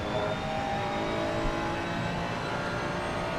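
Ferrari GT3 race car engine in the sim racing game Assetto Corsa Competizione, a steady loud onboard drone at high revs with a constant whine, running alone throughout.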